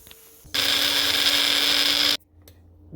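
An electric mixer grinder whirs loudly as it grinds black pepper, cumin seeds, dry chili and garlic for Jaffna-style pulli kanji, running steadily for under two seconds before abruptly stopping.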